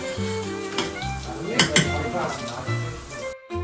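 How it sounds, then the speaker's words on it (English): Chopped red onion cooks over low heat in a little olive oil, giving a steady soft sizzle with occasional clinks and stirring scrapes of a utensil in the pan, and a voice talks over it before a brief cut to silence. "I then cooked them over low heat with a little bit of olive oil until they were fragrant."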